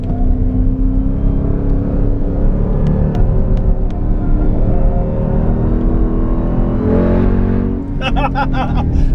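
A 2018 Jeep Trackhawk pulls hard through a corner, its engine a loud, steady low rumble heard from inside the cabin, holding strong throughout with faint clicks and a brief rising whine near the end.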